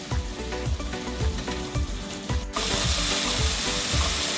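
Onion paste mixed with ginger and garlic paste fries in a pan for Bengali doi katla. Rattling, clicking stirring noises come first, then a loud, steady, hissing sizzle takes over midway and continues to the end.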